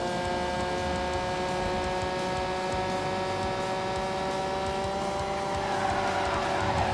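A car engine in The Grand Tour Game on Xbox One held at full throttle, a steady, sustained high-revving drone with no break across the whole stretch and no talk over it.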